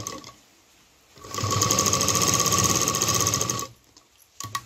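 Domestic sewing machine running a steady burst of double stitching on a small fabric dholki bag, a continuous whirring hum lasting a few seconds before stopping, with quieter handling noise on either side.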